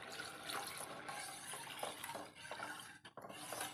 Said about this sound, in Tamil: நாட்டு சக்கரை கலந்ததும் தேங்காய் பால் ஊற்றணும்.